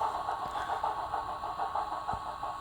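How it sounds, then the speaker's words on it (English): Class 24 diesel locomotive engine in a train simulator, a steady mid-pitched idling rumble with a couple of faint knocks, heard alone without talk as the engine winds toward shutdown. "we'll bring her to a stop and shut down the engine"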